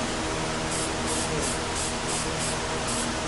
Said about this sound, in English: I love spray painting.